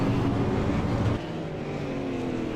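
Super late model race cars circling an oval track, a loud sustained engine roar that drops slightly in level as the pack passes and carries on.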